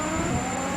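A car engine held in seventh gear at high speed while racing a Porsche 911 in the video game Driving Empire, a steady loud droning whine with no talking.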